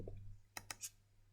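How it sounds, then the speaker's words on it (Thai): Three sharp computer mouse clicks in quick succession, close and fairly faint, while building terrain in Kodu Game Lab, with a low steady hum underneath. "คลิกเมาส์ซ้ายให้เขาสูงขึ้นนะครับ"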